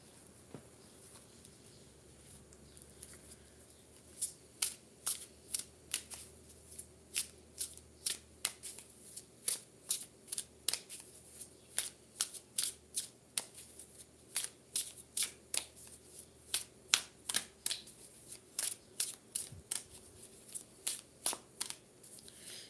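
Oracle cards are shuffled in a quiet room, a long run of crisp riffling bursts in an irregular rhythm, close and fairly faint, with no voices.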